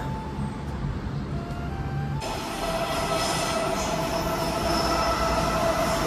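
Two trains roll into a station in Malaysia with a rising rumble and a high, sustained metallic squeal from the wheels, growing louder midway as they approach.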